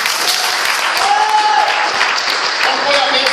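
A church congregation applauds loudly and steadily, dense clapping filling the space for several seconds, with voices and shouts mixed in underneath.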